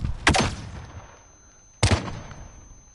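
Two sharp, loud pistol shots, about a second and a half apart, each trailing a short echoing decay, from a Call of Duty Gunfight 2v2 tournament match.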